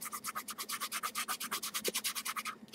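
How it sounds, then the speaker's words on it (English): A fingertip scrubs back and forth over a painted miniature model for a weathering effect, producing quick, regular rubbing strokes, about a dozen per second-pair, close and faint with no talking. "You can just take your finger and kind of scrub across it."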